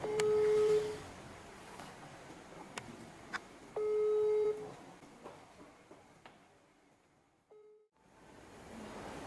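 Telephone ringback tones sound while a call is being placed, two long steady beeps a few seconds apart and then a shorter one, faint over a hissy background.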